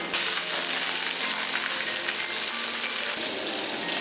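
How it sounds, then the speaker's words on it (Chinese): Marinated hairtail fish fries in hot oil in a wok, giving a loud, steady, close sizzle that crackles on without a break and with no talking. "把腌制好的带鱼放下去煎"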